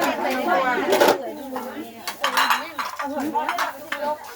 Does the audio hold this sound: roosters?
no